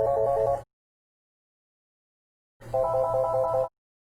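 Polycom 400 series desk phone ringtone playing in two short electronic bursts separated by about two seconds of silence, clear and close with no voices.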